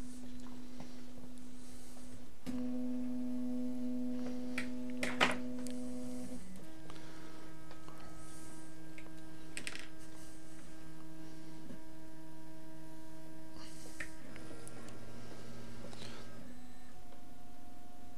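A Prusa 3D printer prints ABS, its stepper motors whining in shifting steady tones that change pitch as the head moves, with occasional faint clicks, quiet and without talk.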